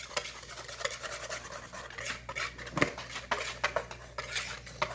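Ingredients for chocolate cookies being stirred together in a bowl, a soft scraping and clinking of a utensil in irregular strokes, quiet and close, with no talking.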